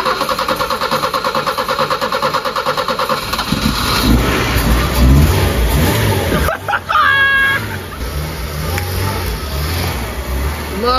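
A car starts after repeated attempts, its engine catching and revving loudly up close, then settling into a steady idle while people talk excitedly nearby.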